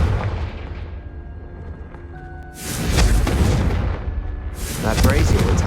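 Confringo fire spell blasts in Hogwarts Legacy, two loud booming bursts following a quieter stretch, with speech at the start.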